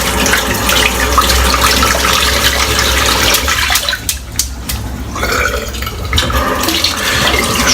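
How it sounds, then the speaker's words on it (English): Tap water runs and splashes while shaving soap is rinsed out at a bathroom sink, a steady loud flow with a brief gurgling drop in the middle before the stream resumes. "Rinse the soap out, give it a clean."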